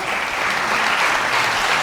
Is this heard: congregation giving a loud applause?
yes